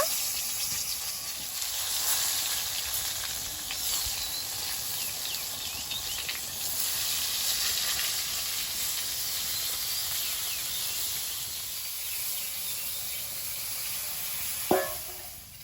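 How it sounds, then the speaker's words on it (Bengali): Eggplant fries in oil in a wok with a steady hissing sizzle that holds at an even, moderate level, broken near the end by a single sharp clack. "বেগুনগুলো ভেজে নেব"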